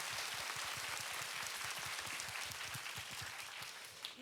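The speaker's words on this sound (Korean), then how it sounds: "박수 한 번만 부탁드리겠습니다" An audience at a concert Q&A session applauds the composer and performers, dense rapid clapping that holds steady and then tapers off near the end.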